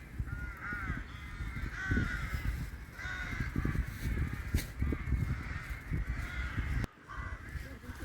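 Crows caw repeatedly outdoors beside a wild garlic patch in Sweden, their harsh calls overlapping against a steady background rumble, with other birds faintly audible.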